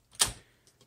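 A 1965 Olympia SM9 manual typewriter having its margin set: one sharp mechanical click-clack up close, followed by two faint small ticks.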